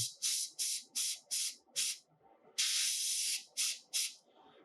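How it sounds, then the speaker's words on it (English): An airbrush hisses in a run of short bursts, several quick sprays, then one longer continuous spray, followed by a few more short puffs, close and clear. "using the airbrush to air dry"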